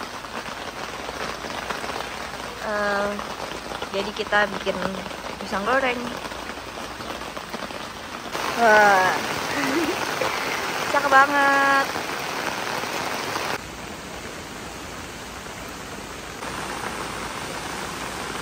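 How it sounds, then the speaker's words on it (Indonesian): Steady rain hisses throughout as an even wash of noise, while people talk over it at moments before it continues alone. "Hujan, akhirnya hujan."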